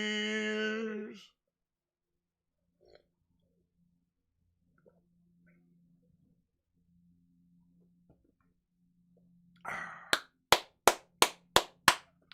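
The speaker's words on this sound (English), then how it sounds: "Give ourselves a round of applause." At the close of a live toast, a short burst of about seven crisp, evenly spaced hand claps rings out nearby after a long near-silent stretch, with a brief voice heard at the very start.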